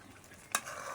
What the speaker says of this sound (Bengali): মশলা দিয়ে একটু ডাল দিয়ে নাড়াচাড়া করে নিতেছি